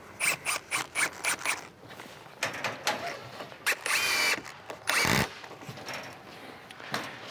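GRK screws are driven into a wooden board with a power driver in a post-frame building, heard as a rapid series of short whirring bursts followed by longer grinding runs and a squeaky creak.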